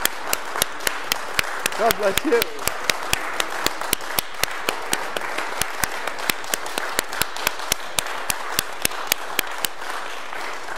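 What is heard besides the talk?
audience standing ovation at an organ concert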